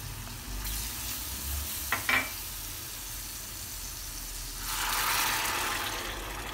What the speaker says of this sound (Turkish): Sosum kaynamaya başladı.